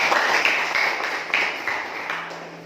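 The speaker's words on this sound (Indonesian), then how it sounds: "Tepuk tangan untuk kelompok D." A classroom group claps for a presenting team, a brief burst of scattered hand claps that thins and fades over a couple of seconds, with no talking.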